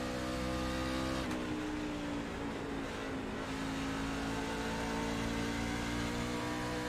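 Racing truck engines drone loudly and steadily in a video game race at Bristol, with a sharp shift around the first second, then a dense, sustained mid-pitched roar that rises and falls as the trucks circulate.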